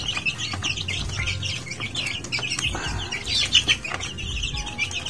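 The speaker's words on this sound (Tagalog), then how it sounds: "Ang lulusog ng mga sisiw natin. Ang lalakas kumain." Young chicks a few weeks old chirping and clucking while feeding, a busy chorus of high peeps with occasional lower clucks, close and continuous.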